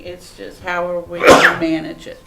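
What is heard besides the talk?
sneeze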